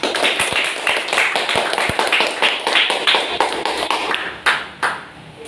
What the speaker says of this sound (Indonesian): Berikan tepuk tangan untuk Fitri dan Fiona.